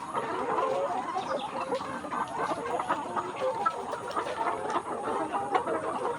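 Layer hens, about 190 days old, clucking together in a poultry farm shed: a dense, continuous murmur of overlapping clucks and squawks from many birds at close range, with no talk.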